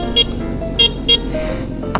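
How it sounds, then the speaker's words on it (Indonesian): A big motorcycle's horn gives three short, loud toots followed by a brief fourth beep, cutting sharply over steady traffic noise on a road. "Iya klakson nih."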